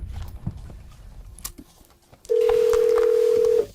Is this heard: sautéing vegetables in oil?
no